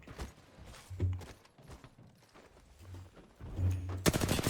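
Bursts of gunfire during an Apex Legends match, short volleys scattered across the moment with a loud rattling burst near the end, mixed with game effects.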